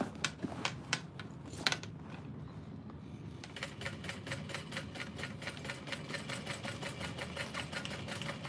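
A sewing machine top stitches a tote, a quiet, close rhythmic stream of fast needle clicks and motor hum that runs steadily, with a few sharper knocks near the start.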